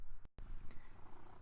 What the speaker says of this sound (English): My cat would not be quiet,